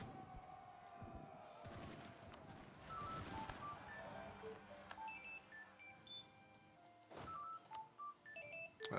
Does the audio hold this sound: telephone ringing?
yes